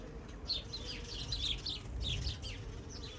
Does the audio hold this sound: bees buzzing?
yes